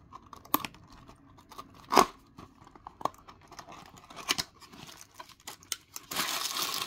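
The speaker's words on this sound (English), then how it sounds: "And let's open this box up." A cardboard Disney 100 McDonald's Happy Meal box is torn open close by, with sharp crinkling, a loud ripping burst and scattered paper rustles, then a steady hiss at the end; no one speaks.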